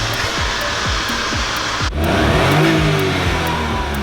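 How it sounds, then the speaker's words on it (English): Suzuki Alto Works RS-R small turbocharged engine revving hard, its loud buzzing note rising and falling in quick repeated sweeps, then a sharp break near the middle as the diverter valve vents, followed by continued engine drone close by. "there's diverter valve noise, there's pops out the exhaust"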